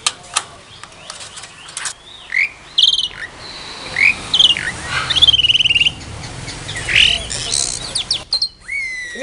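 Caged starlings, Jalak Suren or Jalak Putih, calling up close in repeated loud whistles, chirps and squawks in short bursts, with insect trills humming steadily in the background and no voices.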